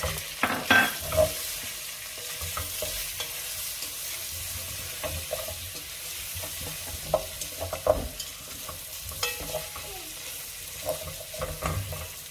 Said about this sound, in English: now I can add in my beef cubes